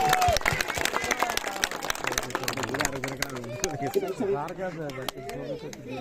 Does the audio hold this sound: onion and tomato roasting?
no